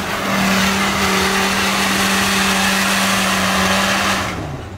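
A Citroën C15 engine revs hard off-road, making a loud, sustained high-pitched drone that holds steady for several seconds before easing off at the end.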